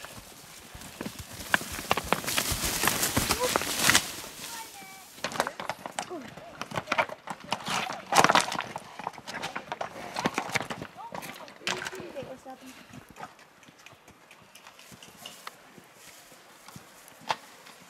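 A pack string of horses walking on an elk hunt, steady, overlapping hoof clops on the ground, fairly close, while people talk intermittently over them.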